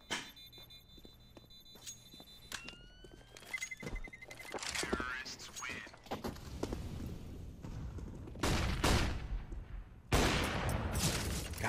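Gunfire in Counter-Strike: Global Offensive during a competitive match, with sharp shots and bursts growing denser toward the end, mixed with footsteps and game effects while commentators talk.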